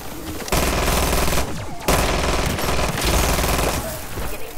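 Rapid automatic fire from guns in Modern Warfare 3 Zombies pounds along almost without pause, loud and close, breaking off once briefly before the sustained volleys carry on with no voices over them.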